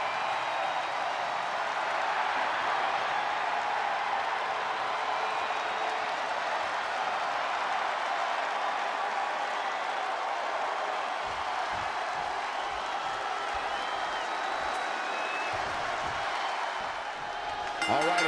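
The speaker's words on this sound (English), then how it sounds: "What about this crowd reaction, guys?" Crowd noise in the wrestling video game WWE 2K20, a steady wash of cheering and applause from a Long Island arena audience, continuous and fairly loud, with game commentary talking over it.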